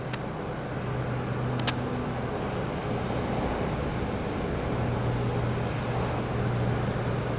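An aircraft departing Brisbane Airport produces a steady, loud engine roar that holds throughout, with a brief faint click early on and no talk.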